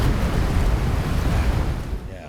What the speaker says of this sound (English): the ocean sounds are pretty loud